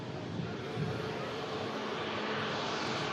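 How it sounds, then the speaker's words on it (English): A British Airways airliner beginning to taxi at an airport, a steady broad engine roar heard from a distance with no talk over it. "the British Airways now just commencing the taxi"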